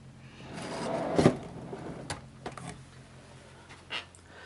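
A drawer on extension slides in a Cherokee 254Q travel trailer slides open with a smooth rolling rumble and a soft thud, followed by a few quieter knocks and clicks.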